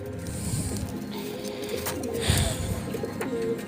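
Pigeons in a loft where they have been laying eggs coo in soft, low bursts, mixed with light mechanical clicks and rattles nearby.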